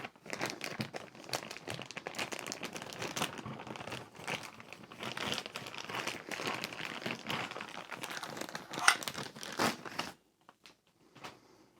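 Packaging for a Panzer AR57 ULT 12-inch 5.7x28mm rifle upper being torn open and crinkled, a steady close crackle and rustle of plastic and paper that stops near the end.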